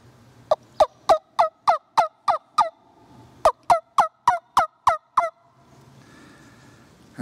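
Two quick runs of loud, sharp yelps from a wingbone turkey call, about eight notes each, evenly spaced, with a short pause between the runs.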